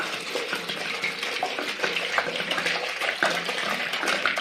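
Water poured out steadily for thirsty chickens in a coop, a continuous loud gushing splash with faint irregular spatters throughout and no talk.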